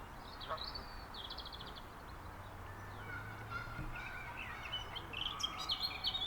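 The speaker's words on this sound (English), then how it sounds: "Hazard a guess that's a robin." Faint robin song in a park drifts in with scattered chirps and trills, over a low outdoor hum and an occasional goose-like honk.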